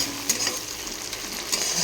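Onion, tomato, salt, turmeric and spices sizzle in a pan for an egg and cauliflower curry, giving a brief, even frying hiss with small stirring scrapes.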